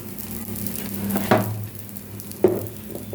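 Appe batter sizzling in a cast appe pan, a steady low frying hiss close by, broken by two sharp clinks of a utensil against the pan.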